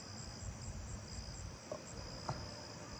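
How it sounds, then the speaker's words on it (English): A Carolina ground cricket trills steadily and faintly from a distance on a nighttime neighbourhood walk, with a continuous insect chorus behind it and no talking. "I'm pretty sure that was a Carolina ground cricket"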